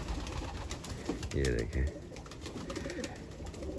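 Pigeons coo in a loft as the coop is opened and some birds perch on top, with a soft, low cooing rising briefly under a man's nearby speech.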